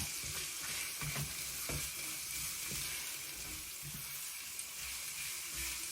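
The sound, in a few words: garlic frying in a pan for pancit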